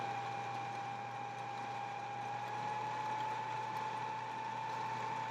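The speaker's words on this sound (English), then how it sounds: "my thread should spin up there, and the bobbin should wind" A sewing machine winds thread onto a bobbin with a steady, even mechanical whir and a constant tone throughout, close by and alone.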